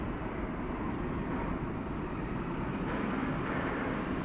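A Finnair airliner at DFW Airport gives a steady, broad engine roar that stays loud and even throughout, with no talk over it.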